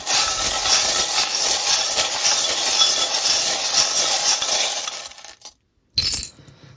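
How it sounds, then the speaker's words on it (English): Divination charms are shaken and cast for a reading, giving a dense, bright metallic jingle and rattle of small objects that fills several seconds, then cuts off abruptly, with a brief final clatter after a pause. "I'm also going to do a charm reading for you, so let's just turn down the volume if you have it, if you might be bothered, because this can be kind of noisy"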